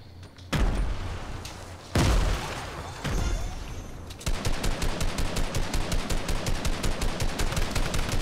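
Gunfire in the Fortnite video game: loud bursts of shots and heavy booms early on, then a fast, steady stream of rapid automatic fire hammering away continuously to the end.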